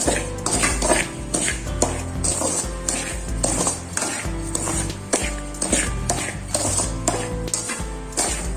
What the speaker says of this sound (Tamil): அதுக்காகத்தான் சிம்மில் வச்சு வறுக்கிறோம்.